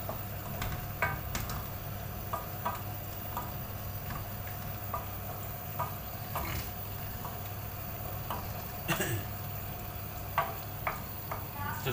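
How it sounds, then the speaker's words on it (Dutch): Sauce sizzles in a pan of boiling water while a utensil scrapes and taps intermittently against it, a steady frying hiss beneath. "Even door elkaar mixen"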